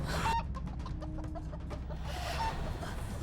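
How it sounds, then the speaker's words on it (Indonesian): Chickens cluck and a rooster calls at night, a series of short, rapid clucking notes over steady background noise, moderately distant, with no talk. "malam-malam ada ayam berkokok sih?"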